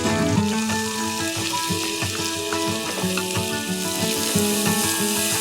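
Cardamom, cinnamon and soaked raw rice fry in melted ghee for pongal, making a loud, steady close sizzle with wet crackling and scraping stir sounds, with no one speaking.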